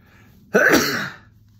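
A single loud, close sneeze bursts out sharply and then trails off over about half a second, with no talking around it.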